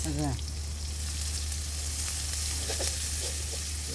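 Onion and chili fry in a pan with a constant crackling sizzle, near and steady, after a brief voice at the start.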